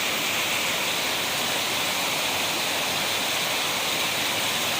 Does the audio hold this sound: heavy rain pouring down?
yes